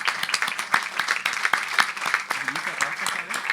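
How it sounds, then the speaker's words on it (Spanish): Audience at a literary talk applauds two writers as they are welcomed onstage, a moderate burst of scattered individual claps with distinct hand strikes rising and falling. "Por favor, recibámoslos con un fuerte aplauso"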